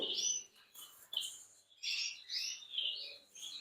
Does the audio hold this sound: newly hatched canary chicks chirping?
yes